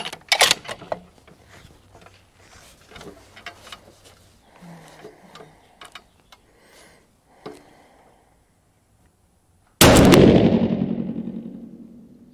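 A 6.5 PRC rifle loaded with Vihtavuori N565 fires one sharp, loud shot near the end, with a long ringing decay outdoors, after quiet rustling and handling.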